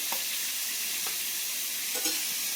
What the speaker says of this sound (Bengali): দেখে মাছের মাথাটা ভালো করে লাল লাল করে ভাজা হয়ে গেল